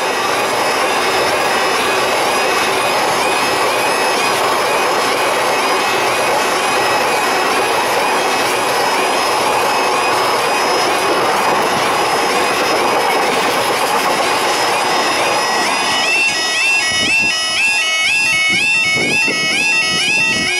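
A Class 66 diesel freight locomotive pulls away from Doncaster with its train, a loud, continuous rumbling roar with tonal engine whine and rhythmic wheel clatter building toward the end.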